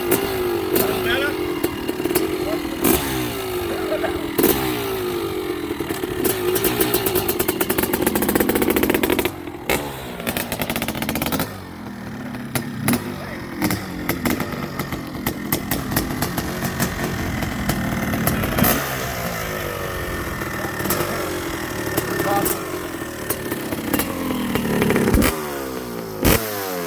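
A Honda CR500 two-stroke dirt bike with an aluminum frame runs nearby, crackling and popping through repeated throttle blips and revs over a choppy idle, with people talking over the engine.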